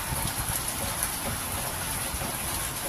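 Heavy typhoon Carina rain pours in a dense, continuous hiss of drops hitting surfaces, steady and loud throughout, with no voices.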